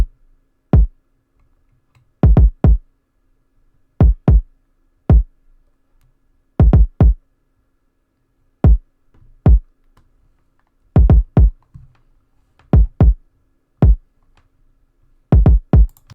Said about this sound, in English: The next part is this kick.